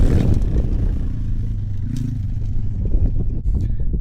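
An SSR 140TR pit bike, a 140 cc model with a poor clutch and untuned suspension, drones steadily close by, its engine note holding with small shifts in pitch along with light rattling.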